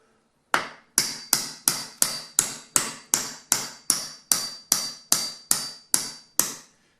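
A hammer strikes a door hinge pin in about fifteen sharp, evenly spaced metallic taps, close and loud with no talking.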